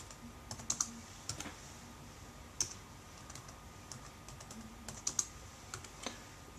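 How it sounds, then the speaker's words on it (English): Light, scattered keystrokes tap on a computer keyboard in a quiet room, soft clicks coming in short irregular bursts with pauses between them. "I'll just type that in."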